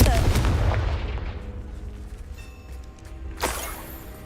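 A Confringo blasting spell in Hogwarts Legacy lands as a loud, close explosive boom with a heavy low rumble that slowly fades, then a second sharper blast erupts near the end.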